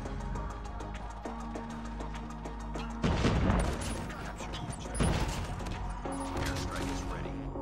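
Rapid heavy gunfire from the Annihilator weapon in COD Mobile, a sustained burst of loud, crackling shots with crashing impacts layered over game music and effects.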